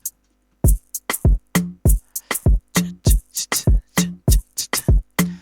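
Afro bongo beat programmed in FL Studio: punchy kick drum, sharp rim shots and conga hits in a steady, busy syncopated pattern, loud and dry with no voices, starting after a brief silence.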